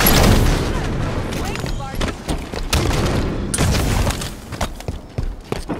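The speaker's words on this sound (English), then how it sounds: "Watch the rocket fire." Rapid bursts of explosive weapon fire in a Halo 5 multiplayer match, a dense barrage of booming shots and thuds layered over sustained battle noise, with voices talking throughout.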